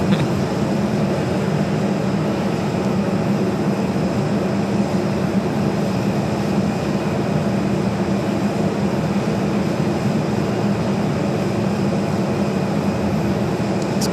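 An airliner takes off from Phoenix airport, a steady, loud broadband engine roar that holds at an even level throughout, with no talking over it.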